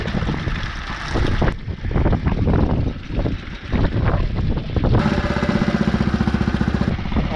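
A boat's outboard engine idles on its own until it stalls, its rough drone loud and close, with wind buffeting the microphone and a steadier pulsing rhythm in the final seconds.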